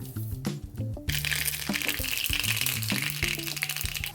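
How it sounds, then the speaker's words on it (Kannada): Mustard seeds crackle and pop in hot ghee for a tempering, a close, steady run of sharp crackles with low sizzling underneath and no voices. "ತುಪ್ಪ ಕಾದ ಮೇಲೆ ಒಗ್ಗರಣೆ ಹಾಕ್ಬಿಡಿ. ಸಾಸಿವೆ ಎಣ್ಣೆ"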